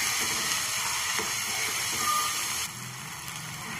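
A whole tomato fries in hot oil for Maggi noodles, giving a steady loud hiss and sizzle that runs without break, with faint crackles on top and no talk.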